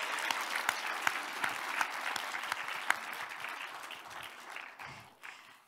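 Audience applause welcoming a guest instructor at a Korean lecture on safe barn principles, a steady burst of many clapping hands with a few sharper claps, fading out toward the end.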